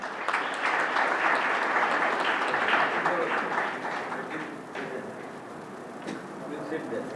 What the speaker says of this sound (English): let us welcome with a huge round of applause for Mr.